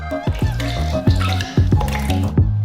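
Liquid egg whites poured into several stand mixer bowls and a food processor bowl, measured out from a jug, give wet glugging and dripping sounds in a few close bursts, with no talking.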